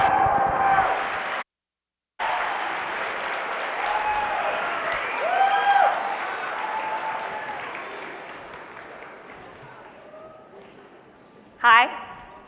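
An auditorium audience at a University of Scranton evening lecture applauds to welcome the speaker, a dense, sustained clapping that swells and then slowly fades, followed by a brief loud burst near the end.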